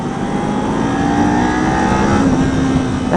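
A 2019 Kawasaki Z400 motorcycle engine revving hard while riding on an open road, a loud close steady drone with a rising pitch and wind rush, no talk.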